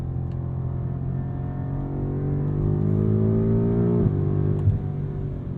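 A BMW M5 Competition engine, 2023 model, pulls hard under acceleration on a drive, with a deep rising drone that swells, drops briefly at a shift and climbs again, heard from inside the car without talk.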